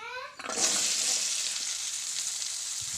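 About 100 grams of okra drops into hot oil for a Karnataka-style okra masala, setting off a sudden loud sizzle that then settles into a steady frying hiss, with no talking.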